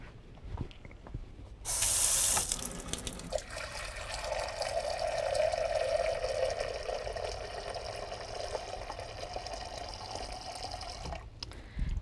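Water pours steadily into a cooking pan holding millet, starting with a loud splashing burst and settling into a sustained, close, hissing trickle that fills the pan for several seconds before cutting off.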